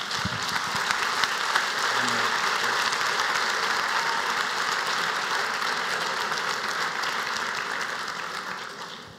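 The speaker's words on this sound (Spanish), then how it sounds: "le van a dar un aplauso al Señor" A church congregation claps together in a dense, continuous wash of applause that holds steady for several seconds before slowly fading.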